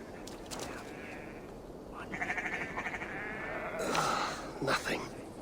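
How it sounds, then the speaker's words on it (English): Several sheep bleat in Assassin's Creed Valhalla, close and clear, with a drawn-out quavering call midway and another toward the end over faint footsteps and ambient game sound. "What has this sheep eaten?"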